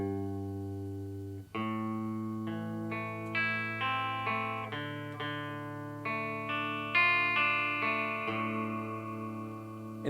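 Guitar picking out two chords, single notes ringing one after another with sustained overlap in a steady rhythm, close and clear with no voice.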